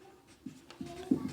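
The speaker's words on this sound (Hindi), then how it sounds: "इसलिए समझाने के लिए हम आपको ए और बी लिख रहे हैं" A pen writing accounting entries by hand, giving soft, close scratching strokes in a few short bursts that grow slightly louder toward the end, with no talk.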